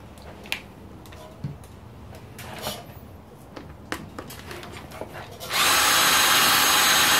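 A power drill runs a Meguiar's Heavy Duty headlight restoration kit pad against a car headlight lens, with scattered ticks and scrapes before the drill cuts in loud and steady near the end.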